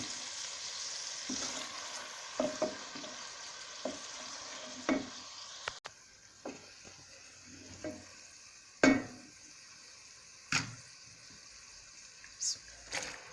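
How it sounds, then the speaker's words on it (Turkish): Tomato paste softens in a pan alongside other ingredients for a meat, chickpea and okra stew, giving a low frying sizzle with intermittent stirring scrapes and clinks spread over the background. "Az da salçayı da alıp bununla da soldurayım."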